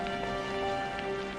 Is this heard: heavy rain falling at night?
yes